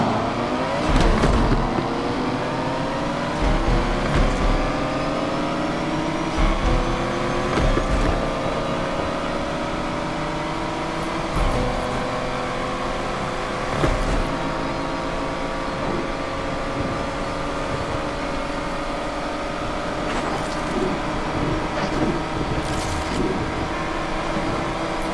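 A Lotus Emira with a swapped 3-litre inline six revs hard in a Need for Speed Unbound drag race, the engine note rising steadily through gears with brief shift breaks, loud and continuous without talk.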